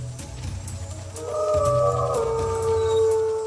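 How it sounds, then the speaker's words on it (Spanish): A prehistoric bear-dog of the Miocene, a lion-sized predator, gives a long rising and wavering howl as a documentary sound effect. The howl comes in strongly over a low rumbling background and holds to the end. "llegó un nuevo contrincante, el oso perro."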